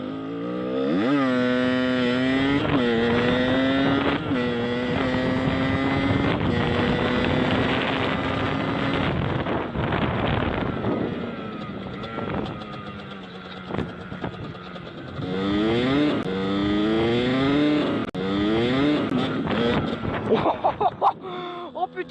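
A Beta 50 cc enduro motorcycle races alongside a TGV high-speed train, its two-stroke engine whining and rising through revs repeatedly, loud and close, with rushing wind noise throughout.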